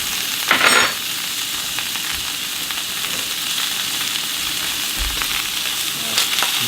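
Butter sizzles in a hot new skillet with basil-crusted rack of lamb, a steady close crackling hiss with a brief louder burst near the start as chunks of butter hit the pan.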